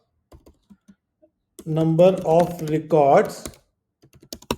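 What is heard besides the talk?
typing on a computer keyboard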